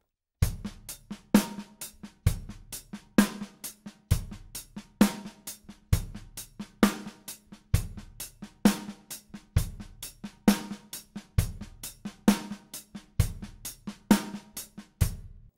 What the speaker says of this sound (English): play the initial groove that we had with all the ghost notes and the backbeat